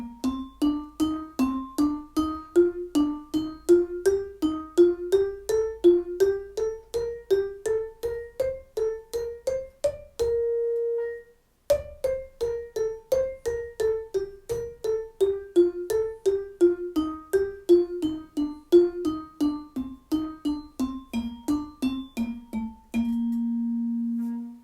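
Vibraphone plays a four-note scale exercise in steady even strokes, rising through the scale, pausing on a held note, then descending and ending on a sustained ringing tone, clear and close with no voices.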